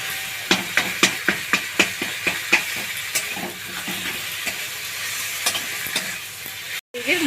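A spoon stirs rui fish head dal of boiled masoor and moong lentils with turmeric in a pan with little oil, a string of sharp scrapes and knocks over a soft sizzle, close and clear.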